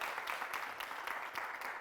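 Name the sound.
audience applause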